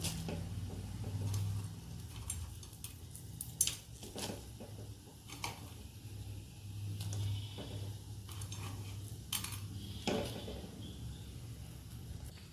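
Maggi noodles going into a pot of boiling water, with a low steady bubbling hum, scattered metallic clinks and taps of utensils against the pot, and quiet kitchen ambience throughout.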